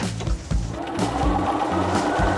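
A sewing machine runs a 2.5-length straight stitch with regular thread along a jeans hem, its motor steady and close with a rhythmic thumping pulse about every half second, alone throughout.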